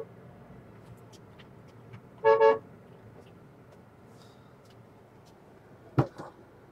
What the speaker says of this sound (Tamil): வெளியே செமையாக இருக்குது, பயங்கரமான டிராஃபிக்.